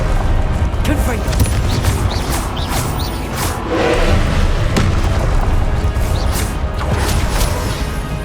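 Confringo blast spells exploding in Hogwarts Legacy, a series of loud booms and crashing impacts repeating every second or so over heavy, continuous combat rumble.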